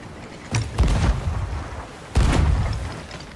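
Cannon fire from a ship battle against a skeleton galleon in the pirate video game Sea of Thieves: two heavy booming blasts about a second and a half apart, each with a rumbling tail, loud and close.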